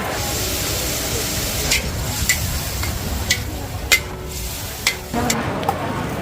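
Shrimp and broccoli stir-fried in a wok at a Thai street food stall, a steady sizzle with scraping stir strokes and clanks of the spatula, close and continuous.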